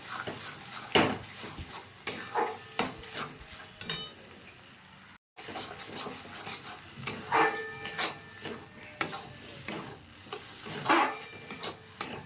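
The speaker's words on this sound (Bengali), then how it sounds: "তো আমি ভালো করে ভেজে নিচ্ছি এটাকে সময় ধরে" Cabbage frying in a pan for bharta, with steady sizzling broken by repeated scraping and clinks of a spatula against the pan, close and moderately loud, with a brief gap midway.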